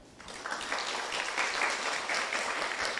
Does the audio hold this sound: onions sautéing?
no